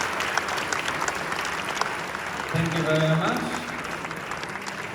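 Audience at a Lindy hop swing dance ball applauds steadily throughout, a dense wash of clapping from a large crowd, while someone speaks over it on a microphone partway through.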